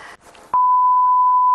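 A loud, pure censor beep cuts in over speech on Tunisian television, a sustained steady tone held for about a second after a brief stretch of muffled voice.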